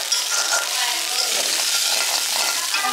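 Pilaf (polao) cooking in a pan: a steady, close sizzle with a bright frying hiss and faint stirring clinks, even in loudness throughout.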